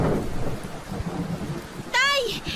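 Heavy typhoon rain with thunder: a dense, continuous hiss of downpour with low rumbles and a sharp crack of thunder near the end.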